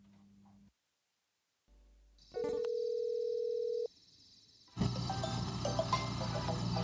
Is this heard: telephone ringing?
yes